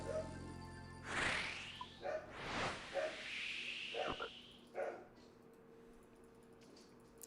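A dog barks and yips in a handful of sharp, separated bursts at moderate volume over faint background game sound, with a few swishing sweeps mixed in.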